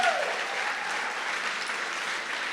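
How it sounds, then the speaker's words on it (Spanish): Applause from a church congregation honoring the word of God during a sermon, a steady, dense wash of many hands clapping that holds evenly throughout at moderate loudness. "le damos otro fuerte aplauso a la palabra de Dios"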